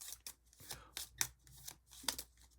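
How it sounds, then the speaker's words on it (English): A deck of playing cards for a zombie-themed solo board game being shuffled by hand: repeated crisp riffling bursts, close and fairly quiet, with no one talking. "And then we go ahead and shuffle up our hand"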